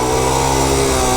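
A Honda motorcycle engine revs hard and close during a gear shift, a loud, dense, sustained roar that stays strong through the short burst.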